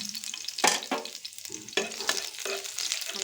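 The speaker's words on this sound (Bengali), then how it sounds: "ফ্রাই প্যানে এখন একটি শুকনো মরিচ দিয়ে আমি ভেজে নিই" One dried chili and chopped garlic fried in a frying pan, a close sizzle broken by repeated scraping stirs of a spatula, uneven bursts with no speech.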